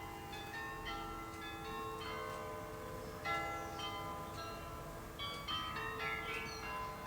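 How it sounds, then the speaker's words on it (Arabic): A church bell rings repeatedly at a measured pace, heard from some distance with rich lingering overtones, a steady hum and low background noise beneath it and no talking. "هي رنة الكنيسة"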